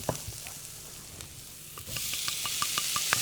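Tomatoes hit a hot pan and sizzle, the frying hiss swelling louder partway through with light clicks of stirring, close up and with no one talking.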